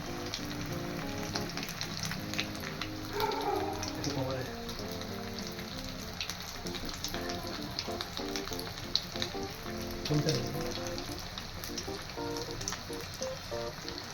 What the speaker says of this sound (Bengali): এই আমি প্রথমে এটা ছাড়লাম, প্রথম চিকেন পিস ছাড়লাম।